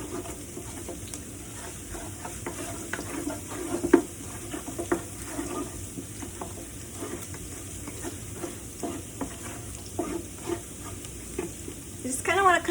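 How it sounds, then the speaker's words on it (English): Food sizzling and browning in a big pot as it is stirred for Hmong khao poon curry noodles, a steady crackling fry broken by scraping stirs and small clinks, close and alone. "You just kind of want to cook this till it browns."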